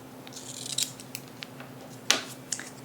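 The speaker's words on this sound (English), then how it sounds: "I'm going to cut it before folding it" Scissors snip through black paper for an iris-folding card, a few sharp, close, quiet cuts spaced irregularly over a faint steady background hum.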